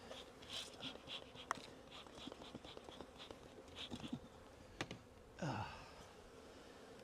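Honey bees drone in a low, faint, steady buzz while a hive is opened and inspected, with scattered clicks and knocks from handling the frames.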